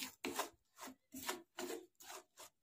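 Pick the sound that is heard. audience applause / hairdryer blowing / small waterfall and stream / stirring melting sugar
stirring melting sugar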